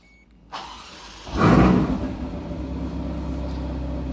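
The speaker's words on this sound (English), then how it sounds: "Let me start the car up." A 2019 Ferrari Portofino V8 engine cranks and fires up with a loud roar, then settles into a deep, steady idle rumble.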